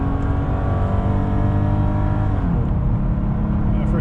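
A 32-year-old car accelerating on a highway, its engine giving a loud, continuous low drone with layered harmonic tones and a slight shift in pitch partway through, heard from inside the cabin with no talk.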